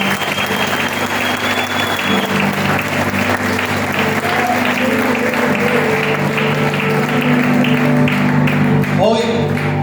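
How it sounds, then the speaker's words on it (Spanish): A church congregation applauding together at a Spanish-language service, a dense, steady wash of clapping that fills the room from start to finish alongside a sustained musical tone and a voice speaking over it. "Denle un aplauso al Señor."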